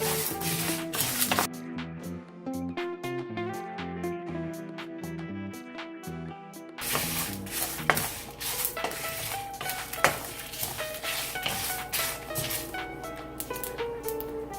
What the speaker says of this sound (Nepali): जीरा, मेथी, धनिया, टिमुर, सुकेको खुर्सानी, यो सबैलाई चाहिँ एकदम राम्रोसँग भुट्नु पर्छ।